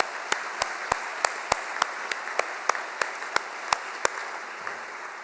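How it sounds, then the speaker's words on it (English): At a yacht race prizegiving, a crowd applauds softly in the background while one nearby pair of hands claps loudly in a steady, evenly spaced rhythm. "So a round of applause for them too."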